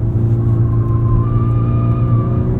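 A 2023 Volkswagen Golf R 20th Anniversary Edition with a manual gearbox drones steadily from inside the cabin as its engine holds high revs, a continuous loud hum with a faint rising whine over it and no talking.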